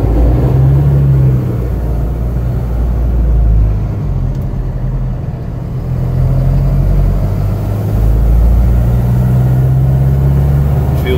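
A 2020 Hino 195 refrigerated box truck with an 18 ft Supreme body on a test drive, its engine a loud, steady low rumble from inside the cab that swells and eases gently with acceleration.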